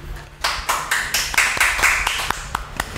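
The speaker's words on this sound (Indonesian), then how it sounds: "Kita tepuk tanganin dulu yuk." A small group claps their hands together, producing a quick run of sharp, uneven claps that builds briefly and then thins out to a few scattered claps.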